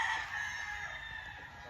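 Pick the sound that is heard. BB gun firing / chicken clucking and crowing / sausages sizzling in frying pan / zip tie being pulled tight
chicken clucking and crowing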